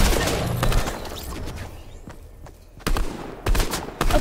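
Several bursts of assault rifle fire in the Fortnite video game, sharp and fairly close, coming in short clusters separated by brief quieter gaps.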